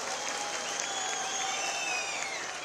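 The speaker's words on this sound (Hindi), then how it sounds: "आइए एक बार पूरे पंडाल की तालियां सौंप कर यहाँ पधारने पर स्वागत, अभिनंदन करें।" A large crowd under an open-air fairground pavilion applauds steadily to welcome the chief minister at a state anniversary event, a dense and continuous wash of distant clapping with no pauses.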